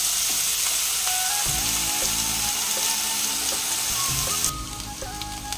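Carrots and potatoes fry in hot oil in a pan, giving a steady, loud, close sizzle that runs throughout and eases slightly near the end, with occasional faint stirring scrapes.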